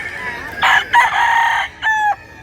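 A rooster crows loudly and close by, a single strained crow broken into several parts, then a shorter final note.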